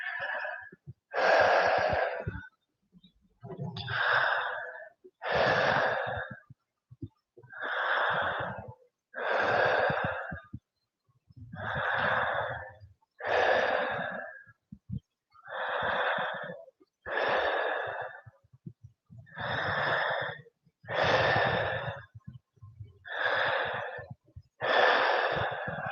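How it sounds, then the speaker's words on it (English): Slow, deep yoga breathing, about fifteen long breath cycles in a regular rhythm, each a loud, close, airy rush separated by brief pauses, with no talking. "Take a few more deep breaths."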